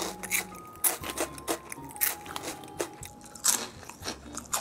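Crunchy No Brand snack chewed close up, a steady run of sharp bites and crackling crunches with no talking.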